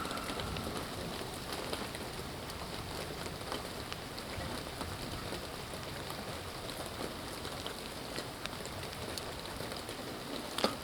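Heavy rain during a lightning storm pours down as a steady, dense hiss with scattered drops spattering on surfaces, constant throughout and without voices.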